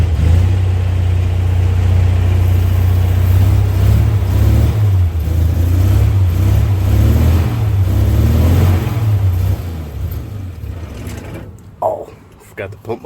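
A 1962 Dodge M37 truck engine, started after sitting 45 years, runs with a loud, steady low rumble close by, then sputters and dies near the end with a few brief clanks.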